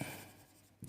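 Brief scratch of writing on a board during a physics lesson on cells in series, a single close stroke of chalk or marker lasting under a second with a small burst at the end.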